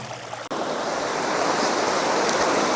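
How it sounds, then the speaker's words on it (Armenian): Mountain spring water flows down from the hills through a channel on a plot of farmland, a steady, loud, close rush of water that starts abruptly and continues without a break. "ես էլ մեր հողամասի արվակի ջուրը, որ հոսում է սարերից, լեռնային աղբյուրների ջուր է"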